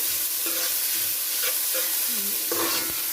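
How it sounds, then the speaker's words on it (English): Cumin (geera) powder sautéing in a home cooking pot, giving a steady sizzling hiss with a few soft stirring scrapes, close and continuous with no talk. "just gonna leave this to saute for a little while, about a minute or so"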